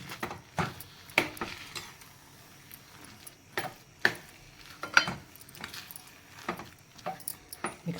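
A spoon stirs rava kesari in a pan with ghee and oil, giving a series of sharp metallic scrapes and taps at an uneven rhythm, close and fairly quiet.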